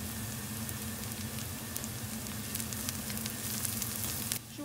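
Crushed garlic frying in a pan for an oyster pasta dish, giving a steady close sizzle with soft crackling throughout, with a brief dip near the end.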